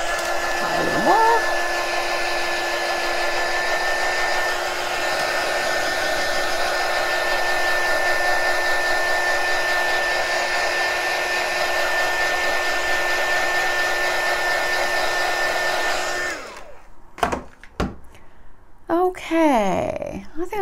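A hair dryer blows steadily and loudly on a craft-foam fake heart marshmallow kabob for about sixteen seconds, then switches off. Someone talks over and after it.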